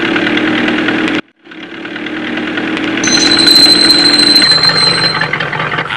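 A car engine with its silencer fallen off runs loud and rough, cuts out briefly, then picks up again and drones on steadily with a thin whine above it.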